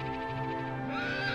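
A horse neighs in the PlayStation 2 game Dragon Quest VIII, a single clear, quavering whinny that rises toward its end and is heard alone.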